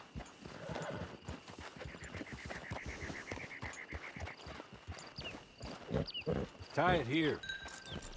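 Horse hooves clip-clop at a walk in the Red Dead Redemption 2 Online game, with rhythmic thuds under short spoken lines, followed near the end by a horse's whinny and snorts.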